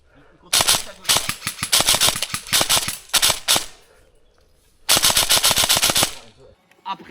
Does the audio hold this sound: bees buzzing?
no